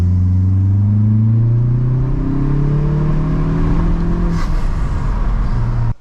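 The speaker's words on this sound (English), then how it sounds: "There's a rattle down there." Revving Mazda 3 turbo with a Corksport exhaust, a strong rising engine drone climbing steadily and then dropping off, with a faint rattle underneath, close and loud without talk.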